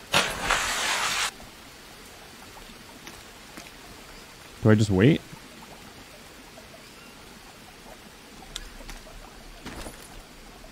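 A coconut dropped into water in the Green Hell survival game makes a broad, splashy burst at the start. It fades into a low ambient background, and a voice speaks briefly later.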